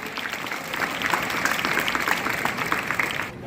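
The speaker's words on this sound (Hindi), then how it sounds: "जोरदार ताली।" Loud, sustained applause from a crowd at a school sports day prize-giving ceremony, steady dense clapping for about three seconds that drops off abruptly at the end.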